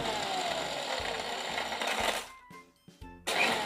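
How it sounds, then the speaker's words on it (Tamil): An electric mixer grinder whirs as it grinds rusk, the loud motor running steadily in pulses before stopping, then briefly restarting with another short burst. "ரஸ்க்கை ஒரு மிக்சியில் போட்டு சும்மா ஒரு 2 சுற்று மட்டும் எடுத்து சுற்ற போகிறோம்"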